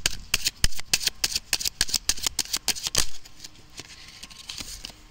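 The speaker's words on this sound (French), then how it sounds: "Bon, je mélange encore une fois." Oracle cards are riffled and shuffled close up in quick rapid flutters of papery slaps for about three seconds, and then the sound goes quiet.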